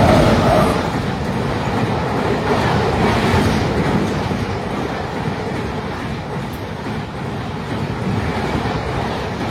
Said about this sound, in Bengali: একটা ট্রেন পার হলো